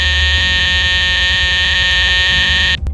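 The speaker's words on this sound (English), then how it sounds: "During venting, the icon on the instrument panel will be green and a buzzer will sound" A mini excavator's auxiliary venting buzzer drones loud and steady, harsh and tonal, cutting off abruptly near the end when venting completes.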